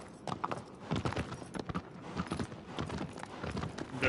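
Horse hooves clip-clopping at a steady trot in the Shadow of the Colossus video game, moderately close, with busy background game sounds throughout.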